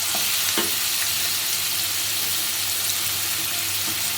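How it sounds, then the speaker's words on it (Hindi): Chopped onion frying in hot oil with asafoetida, a steady close sizzling hiss that runs throughout, with a couple of light stirring clicks near the start. "प्याज को थोड़ा ब्राउन होने तक भून लेंगे।"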